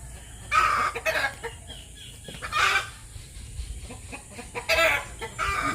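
A chicken clucks in loud, uneven bursts close by, with farm background noise between the calls.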